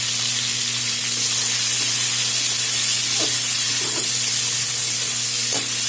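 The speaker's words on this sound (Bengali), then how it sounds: "এখন দিয়ে দিলাম কেটে রাখা দুটা মিডিয়াম সাইজের টমেটো" Two medium chopped tomatoes frying in a pan with black cumin and a little salt give a steady, loud hiss of sizzling oil, with a few soft stirring taps; no voices.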